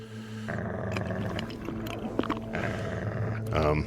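A dog in the video game CONVRGENCE growls and whimpers close by, a continuous rumbling and whining over game sound for several seconds.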